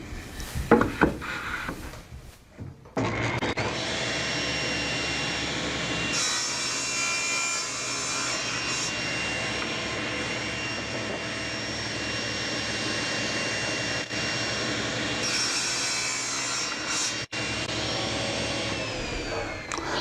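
A table saw cuts wooden legs to length, first spinning up with brief clunks, then running as a loud, steady high whine through the blade cut, with slight dips in pitch as the wood feeds.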